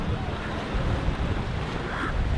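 Sea waves and wind at the shore in Penang, with cargo ships offshore. Steady broadband surf and gusting wind rumble against the microphone throughout, with no voices.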